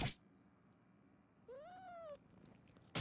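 A cat meows once in South Park: The Fractured but Whole, a clear rising-and-falling call in the middle of a quiet stretch, bracketed by brief louder bursts at the start and end.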